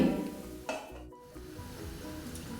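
Snack pieces dropped into hot oil, a close bubbling sizzle with a brief splash and stirring scrape, the frying hiss continuing steadily to the end, no voices.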